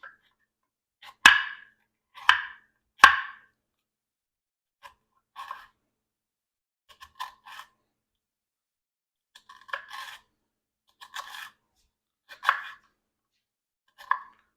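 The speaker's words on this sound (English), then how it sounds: "I'm going to slice real thin" A kitchen knife slices fennel thinly on a cutting board. About a dozen crisp, separate cuts land at an uneven pace, close and clear with nothing else behind them.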